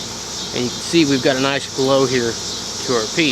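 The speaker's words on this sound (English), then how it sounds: "we also got cicadas singing" Cicadas drone in a continuous high, shrill buzz on a dark evening outdoors, loud and steady beneath someone talking close by.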